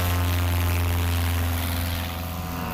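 Propeller-driven STOL airplane at a short-takeoff competition in Gallatin, Tennessee, its engine droning steadily with a strong low hum and harmonic tones, fairly loud and continuous without voices.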